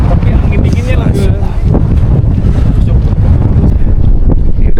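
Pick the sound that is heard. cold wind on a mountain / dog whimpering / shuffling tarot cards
cold wind on a mountain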